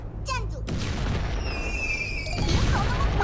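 Fireworks burst and boom in the mobile game Crossy Road, with dense, continuous explosive crackle and a whistling rise in the middle; no one speaks.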